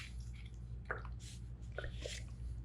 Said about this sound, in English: I'm just squirting that water in gently to not disturb the soil or anything